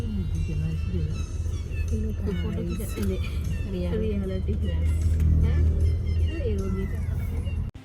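A car sets off on a family road trip in Goa, its low engine rumble and road noise running steadily underneath while people talk inside.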